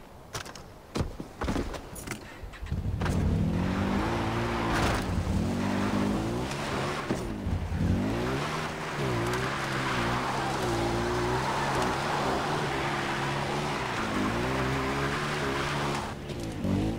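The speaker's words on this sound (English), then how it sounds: "I guess we have to take a vehicle to go to that place." A vehicle driven in Far Cry 4, its engine holding a steady loud drone with shifting revving tones after a few seconds of clicks and rustling at the start.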